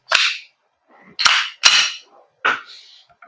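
Gas-powered pistol fired on a range during a velocity test: four sharp, loud, close pops spaced irregularly, each with a short fading tail, alone with no talk.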